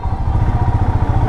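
A motorcycle engine runs loud and close with a steady, throbbing idle as the bike edges through a stalled traffic jam on the road near Ramban and the Banihal tunnel in Jammu and Kashmir.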